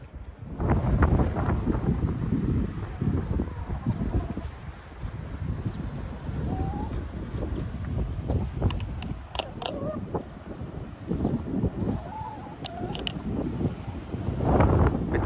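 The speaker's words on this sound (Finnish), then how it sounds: "On nimittäin niin kova tuuli, että 11 metriä luvannut tännekin." Strong, gusty wind of around 11 metres per second during a storm, roaring steadily and buffeting the microphone, with louder blasts at the start and end of the recording.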